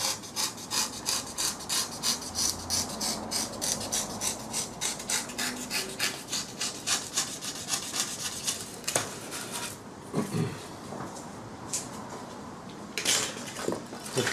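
Hand-cutting into a wooden edge, kept close to the edge without biting into it: a steady run of rhythmic rasping strokes, fairly close, stopping near the end for a few scattered knocks and scrapes, with no talking.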